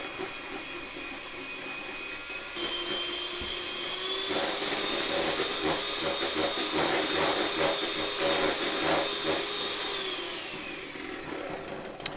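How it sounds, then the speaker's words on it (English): Whisk beating softened butter into a cake mixture for buns, a steady whirring electric drone that starts, rises in pitch and holds for several seconds before winding down, close and fairly loud, with no talking. "we can put that into the mixture. And give it a good whisk."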